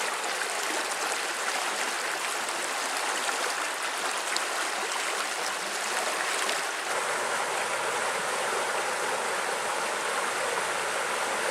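Creek water flowing steadily in the Spenceville Wildlife Area, a dense, continuous rushing wash close by, unchanging across the whole stretch with no voices.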